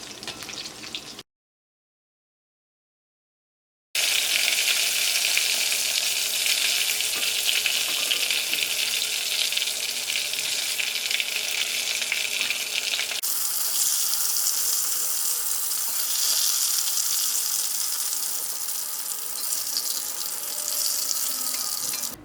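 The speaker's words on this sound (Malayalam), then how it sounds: "ഓരോ സൈഡ് പതുക്കെ മുരിഞ്ഞു തുടങ്ങുമ്പോൾ പിന്നെ തിരിച്ച് മറിച്ചിട്ടിട്ട് ഇത് വറുത്തെടുക്കുക" Chicken nuggets frying in hot oil, a loud continuous hiss close by that drops out briefly near the start and softens a little partway through, with no talk.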